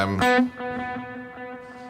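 A single electric guitar chord in a worship-style tone rings out, then echoes repeat and fade into a long, washy tail of heavy stereo delay and reverb.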